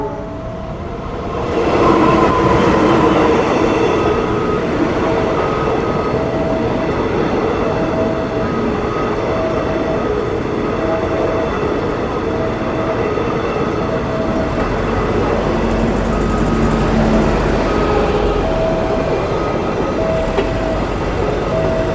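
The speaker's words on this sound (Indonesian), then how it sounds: "Ini keretanya persiapan melintas." A special delivery train hauling a KRL electric trainset from Probolinggo toward Madiun rolls past a level crossing near Bayuman station. It starts with a loud approach, then a sustained, heavy rumble of rail wheels with a steady horn-like tone.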